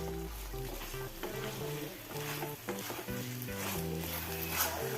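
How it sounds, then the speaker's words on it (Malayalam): Cauliflower tossed in a pan with sauce for cauliflower Manchurian, soft stirring and sizzle sitting under steady background music, with no voices. "കൈ ചെയ്ത് വെച്ച ഫ്ലവർ ഇട്ട് കൊടുത്ത് നല്ലപോലെ ഒന്ന് മിക്സ് ചെയ്യുക"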